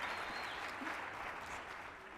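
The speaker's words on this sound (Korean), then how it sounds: "박수 부탁드리겠습니다." An audience claps after a lecture, a steady, fairly soft wash of applause lasting the whole moment with no voices over it.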